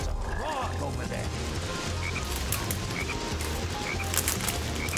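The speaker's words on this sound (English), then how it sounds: "Hey, there's a frog over there!" Repeated low frog croaks in the video game Sonic Heroes, pulsing in a steady rhythm under a dense wash of background game noise, with a voice faintly present in the mix.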